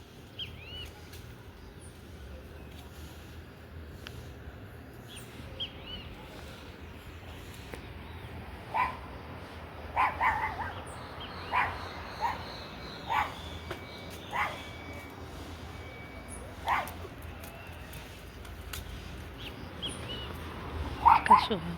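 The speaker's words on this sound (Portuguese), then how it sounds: "Ela fica em cima da laje, latindo com a gente" A dog barking from up on a rooftop concrete slab outdoors, a run of separate, moderately loud barks spaced irregularly over steady outdoor ambience with birds in the background.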